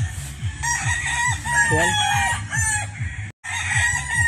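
Gamefowl roosters crow at a game farm, a loud nearby crow rising and falling over a steady backdrop of clucking and other birds, with a brief voice heard.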